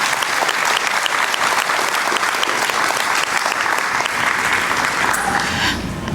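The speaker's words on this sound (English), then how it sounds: "Can we give them another round of applause?" Dense applause from a large audience at a graduation ceremony, steady and full for about six seconds before tapering slightly at the end.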